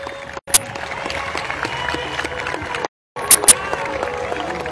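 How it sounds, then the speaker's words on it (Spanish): Crowd applause and cheering in a municipal sports hall at the opening of a neighborhood club tournament, steady and fairly loud with sharp whistles, breaking off briefly in two short gaps. "Un fuerte aplauso."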